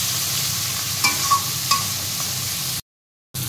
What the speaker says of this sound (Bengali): ধনেপাতা দিয়ে মশলাটার সাথে কষিয়ে নিচ্ছি।